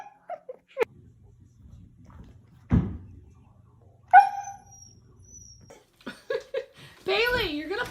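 A dog barks and whimpers in a house, giving a few sharp, close yelps between pauses, along with a thud and a rising whine toward the end.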